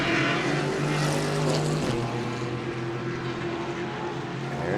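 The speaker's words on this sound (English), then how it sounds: "Here comes the Viper, man." A Viper race car roars past at Sebring, its engine note rising and then dropping as it goes by, a loud, continuous drone heard from trackside.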